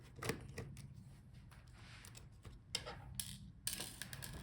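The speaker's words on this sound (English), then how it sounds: "Unscrew the screws on the top." Small screws are backed out of the touchpad area of an HP Envy 17m laptop during a teardown, with faint intermittent ticking clicks and light metallic scraping up close.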